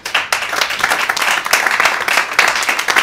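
An audience claps steadily and warmly for an Army veteran at a book talk, with dense, sustained applause holding loud throughout.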